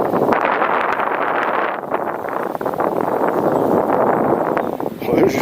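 Strong wind buffets the microphone while fishing for catfish outdoors, a continuous loud rushing roar with gusty swells that persists throughout.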